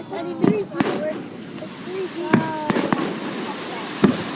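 Fourth of July fireworks over Hilo Bay burst in sharp, loud bangs at irregular intervals, with crackling and whistling tails between them and a crowd talking and exclaiming throughout.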